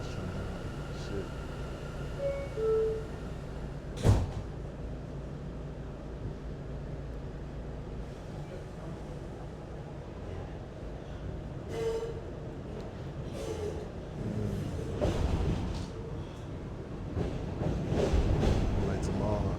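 A New York subway C local train rides between stops, a steady rumbling roar with clanks, rattles and a sharp bang, swelling louder toward the end while voices murmur faintly inside the car.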